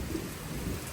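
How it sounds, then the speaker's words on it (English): Heavy pouring rain in a downpour with low rumbling thunder, a dense, steady wash of close rain noise under a deep continuous roll, no voices. "It is absolutely pouring rain."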